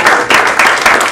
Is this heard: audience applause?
yes